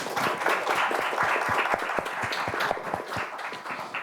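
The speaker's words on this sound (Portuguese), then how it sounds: "Peço uma salva de palmas, professor Vicente." A small forum audience claps in a sparse, uneven patter, individual hand claps standing out as distinct sharp hits rather than a dense wash, the volume slowly tapering toward the end.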